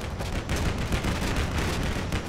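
A Bradley fighting vehicle in Combat Mission Black Sea fires continuously into woods, a dense, steady roll of rapid shots and impacts with no break.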